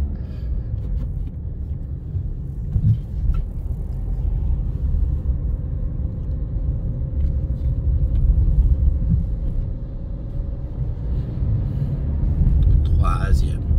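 A car in a manual-gearbox driving lesson accelerates with a steady, low engine rumble and road noise that swells slightly toward the end, while an instructor speaks over it.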